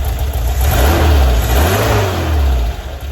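A 1978 Volkswagen Bus 2.0-litre engine, freshly renewed with a new carburettor kit and the choke on, runs loud and close, rising through a strong rev and settling back to a steady throb.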